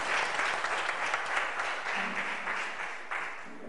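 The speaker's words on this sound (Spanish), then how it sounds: "Un aplauso a Piedad Córdoba." An audience at a Dominican Republic gathering applauds Piedad Córdoba, a full steady burst of clapping that holds throughout and eases slightly toward the end.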